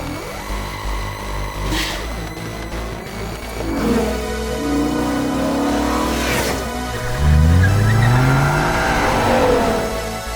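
A BMW M5 Touring V10 engine with manual gearbox revs hard and climbs in pitch through the gears, loud and close, with the exhaust roar swelling as it accelerates.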